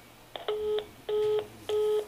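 Three loud, evenly spaced telephone tones of about a third of a second each come from phones dialing a busy hotline in a Russian-speaking setting, with quiet gaps between them.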